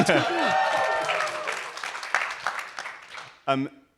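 A live conference audience at TrustCon 2024 claps and cheers in a short burst that fades over about three seconds, followed by a brief clear voice at the end.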